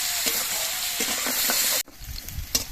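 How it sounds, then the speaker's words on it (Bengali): Potatoes and tangra fish pieces fry in a pan with a loud, steady sizzle and stirring scrapes, then the frying cuts off abruptly and only quieter low knocks and rustles follow. "সব কিছু কিন্তু বেশ ভালো মতো ভেজেও নিতে হবে"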